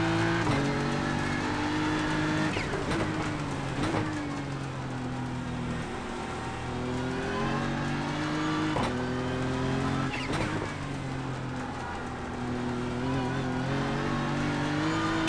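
Continuous GT3 race car engine in the iRacing sim on the Nordschleife in the rain, revving up and down through repeated gear changes and corners, with someone talking over it.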